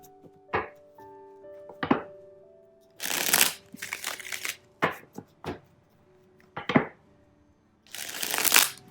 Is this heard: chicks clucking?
no